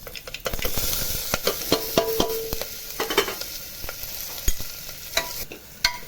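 Spices crackle and sizzle in hot oil with sharp popping bursts and stirring scrapes, fairly close and without talk.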